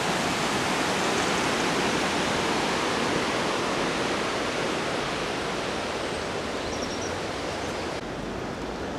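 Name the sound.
river water rushing over a weir by restaurant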